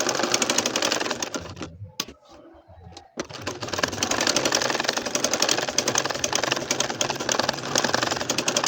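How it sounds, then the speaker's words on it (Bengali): A sewing machine stitches a nakshi kantha quilt, a rapid steady mechanical whir running continuously, briefly stopping for about a second before resuming at the same pace, close and prominent. "এখন আবারও বাঁকা করে সেই একইভাবে একই নিয়মে আবার সেলাই করে নিচ্ছি"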